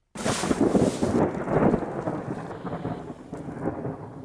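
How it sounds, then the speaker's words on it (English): Thunder rolls loudly in the Colombian jungle ahead of a rainstorm, a deep rumble that swells and slowly fades over several seconds. "as you can hear, it's been thundering, which means it's going to start pouring down in a second"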